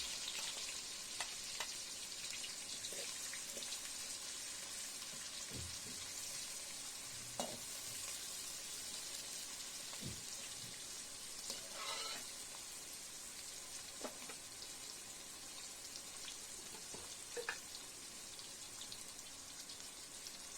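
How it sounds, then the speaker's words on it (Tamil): Onions with fennel seeds sauté in a pan for Indian-style masala pasta, giving a steady close sizzle with occasional soft stirring scrapes and light pops throughout. "வெங்காயம், சோம்பு போட்டதும் வெங்காயம் போட்டு வதக்கலாம்"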